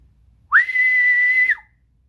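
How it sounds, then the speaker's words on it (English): One loud, piercing two-finger whistle rises quickly to a high note, holds steady for about a second, then cuts off. "She whistled with 2 fingers beside her teeth."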